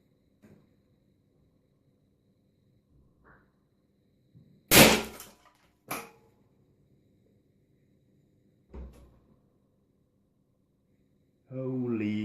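A 1000 microfarad 25 volt capacitor bursts after a 160 volt dump, one sharp loud bang followed by a smaller crack, with faint clicks around it and a voice starting at the end.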